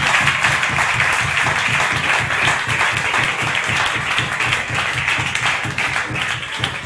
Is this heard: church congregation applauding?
yes